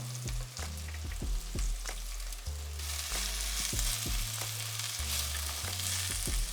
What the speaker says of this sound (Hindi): प्याज भुनने का प्रोसेस थोड़ा ज़्यादा टाइम लेता है